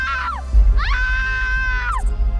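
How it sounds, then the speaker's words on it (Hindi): Screams in a Hindi horror story: two long, high, wavering shrieks with a pitch drop at the end of each, separated by a brief pause, over a low rumbling background. "सबकी चीखें निकल गईं।"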